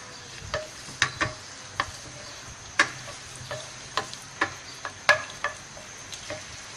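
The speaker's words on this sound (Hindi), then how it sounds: "अभी प्याज हमने जो बारीक कटी हुई थी वो इस तरह हम डालेंगे इसके अंदर।" Finely chopped onions going into hot ghee for aloo kofta, a low steady sizzle under a run of sharp ladle taps and clinks against the pan, close and fairly loud, without voices.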